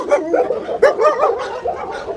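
Golden Retriever and Labrador dogs at a breeding kennel bark in quick, close yips and woofs, several overlapping barks over about two seconds with no talk.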